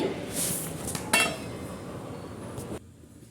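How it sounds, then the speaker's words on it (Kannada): A metal plate set down over a pot of cumin and black pepper rasam, giving a few close clinks and a sharper metallic clatter with no talk. "ಈಗ ನಾನು ಒಂದು ತಟ್ಟೆ ಮುಚ್ಚಿ ಹತ್ತರಿಂದ ಹದಿನೈದು ನಿಮಿಷ ಕೊಯ್ಸ್ಕೊಂತಿದ್ದಿ"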